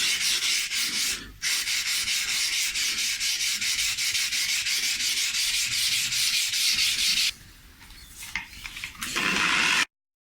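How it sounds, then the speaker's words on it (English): Steady rhythmic scrubbing of wet 800-grit sandpaper rubbing back and forth over a guitar neck, a brief pause early on, then the strokes turn softer and more irregular near the end. "wet 800 grit paper and just sanding it flat, knocking off any lumps and bumps on the surface"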